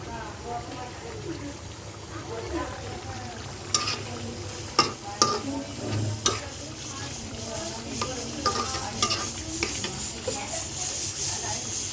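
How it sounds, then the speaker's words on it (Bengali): Nihari sizzles in a pot with spices and water as a utensil stirs it, with scraping strokes and occasional sharp clinks against the metal over a steady bubbling hiss while a person talks. "আর এটা হচ্ছে নিহারি রান্না করা হচ্ছে"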